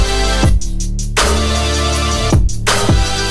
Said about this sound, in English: We created that kind of telephone synth sound.